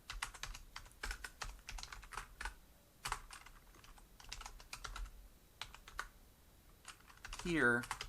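Keys clack on a computer keyboard in quick irregular bursts with short pauses, quiet and close, across about eight seconds. A voice briefly breaks in near the end.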